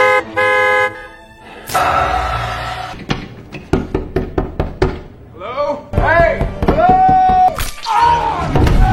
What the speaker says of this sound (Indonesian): Sontak Carly langsung memencet klakson berkali-kali untuk memperingatkan Wade.